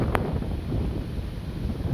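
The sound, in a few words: strong wind blowing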